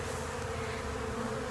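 Honey bees at a nucleus colony buzz in a dense, steady drone close by, a continuous hum with no voices over it.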